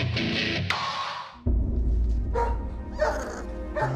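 A pit bull at a New York City municipal shelter gives several short, loud barks and yips, spaced irregularly and close by, with no talking.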